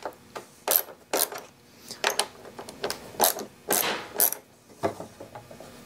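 A 9/32 socket wrench ratchets out 7mm bolts on a 2008 Cadillac CTS headlight trim piece, giving short close bursts of clicking separated by brief pauses, with no talking.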